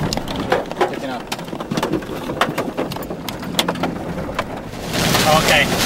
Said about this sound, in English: Winds have just picked up to about 50 miles an hour